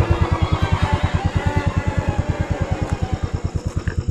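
A motorcycle engine thumps in a fast, steady, regular beat throughout, loud and close, with no talk over it.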